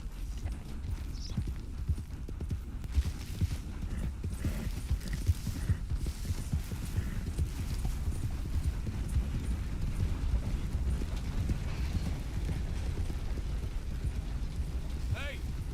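Horse hooves clip-clop steadily at a riding pace in the Western video game Red Dead Redemption 2, a continuous rhythmic trot under low rumbling ambience, with no talk over it.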